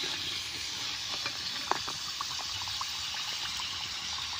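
Samosas (singara) frying in hot oil in a home kitchen, a steady close hiss and sizzle with scattered small pops and crackles throughout.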